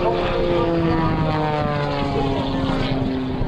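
Sean Tucker's propeller aerobatic plane roars loudly overhead at an air show, its engine holding a steady, strong drone with a slight pitch shift as it passes.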